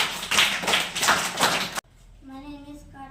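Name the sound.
students clapping in class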